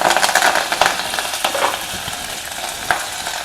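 Mustard seeds, urad dal, chana dal, green chilli and curry leaves sizzle and crackle in hot oil, with loud spattering pops over a constant frying hiss, close up and with no talking.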